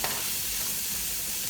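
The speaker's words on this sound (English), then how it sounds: "Saute this for a minute." Carrots, green peas and corn sauté for fried rice in a hot pan with garlic, ginger and sesame oil, giving a steady, close sizzle throughout with no voices.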